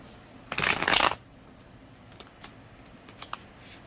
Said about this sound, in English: do 3 quick shuffles.